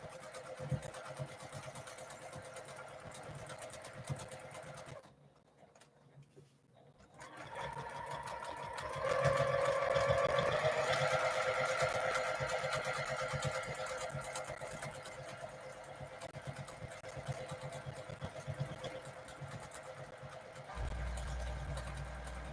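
A sewing machine stitches free-motion quilted feathers in long continuous runs of rapid whirring, pausing briefly before resuming louder and steadier, heard close up with faint low background noise.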